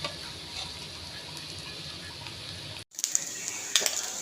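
Small dried shrimp frying in oil for a bhorta, a soft steady sizzle that cuts off briefly, then resumes brighter with crackling pops.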